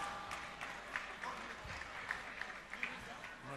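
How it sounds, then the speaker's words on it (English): Applause from the audience at a conference closing ceremony, a dense, moderately distant clapping that stays steady throughout, with a few sharper claps poking out and voices faintly beneath. "Please, let's give them a round of applause."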